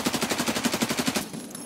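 Rapid automatic gunfire from Escape from Tarkov, about fourteen evenly spaced shots in a steady burst lasting just over a second, then a faint tail with no talking.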